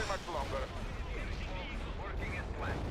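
Bombs dropped in the real-time strategy game World in Conflict burst as dense, rumbling explosions, a continuous roar of blasts with a voice talking over them throughout.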